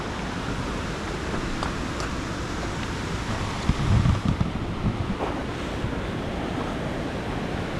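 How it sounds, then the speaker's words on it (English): Waterfalls at the Sinks in the Smoky Mountains near Townsend, Tennessee, give a steady broadband rush heard from a roadside, with brief gusts of wind buffeting the microphone partway through. "I wanted to show you guys these waterfalls if I can get a good enough view. You can hear the water."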